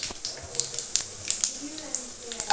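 Mustard seeds and cumin crackle and spit in hot oil for a South Indian tempering, a steady close sizzle scattered with sharp popping bursts.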